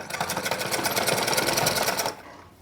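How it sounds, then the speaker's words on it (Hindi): A sewing machine runs steadily for about two seconds, stitching blouse lining fabric for a princess-cut blouse, then stops abruptly, leaving near silence. "इसके ऊपर सिलाई लगाना है"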